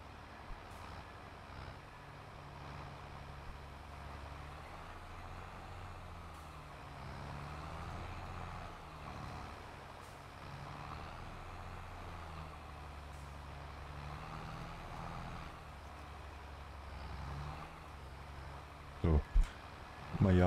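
A truck in Landwirtschafts-Simulator 22 drives with a steady low engine drone and then pulls over, ending with brief hissing and clunks, while someone talks over it throughout.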